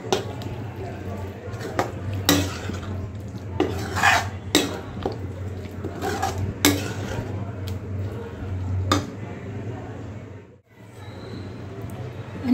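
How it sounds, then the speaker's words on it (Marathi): Fried okra stirred in a pan with masala, a spoon scraping and clinking against the metal in irregular strokes, close by, with a voice talking over it. "आणि आता यामध्ये आपण ही जी फ्राय केलेली भेंडी होती ही भेंडी टाकली आणि भेंडी पण छान अशी मिक्स करून घ्या"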